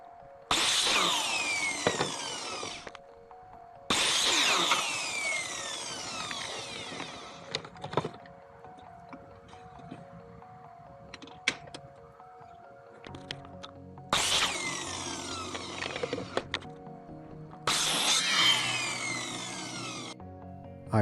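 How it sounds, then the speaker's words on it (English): A miter saw cuts thin wood strips in four loud, close bursts, each a high whining spin-up and bite through the wood that then winds down, separated by quieter gaps with small clicks. "I use the miter saw to cut out the angles."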